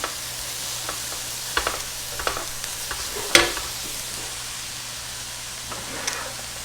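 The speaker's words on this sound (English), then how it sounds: "But I think for this recipe it works well just to saute it" Cauliflower rice sautéing in a pan gives a steady soft sizzle, with scattered light scrapes and taps of stirring and one sharper clack midway.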